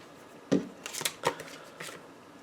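A deck of playing cards being shuffled close up, with a few quick riffling bursts and snaps separated by short pauses against a quiet background.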